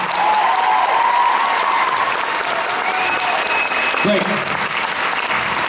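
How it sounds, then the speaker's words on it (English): Audience at a Dragon Con 2015 convention panel applauds loudly and steadily, a dense wash of clapping from a large crowd with a brief spoken word over it. "And a big round of applause to David and representatives."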